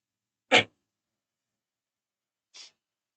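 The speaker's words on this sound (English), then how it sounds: "Oh god, I'm gonna sneeze." A single sharp sneeze bursts out, followed two seconds later by a short, softer nasal sniff; otherwise silence.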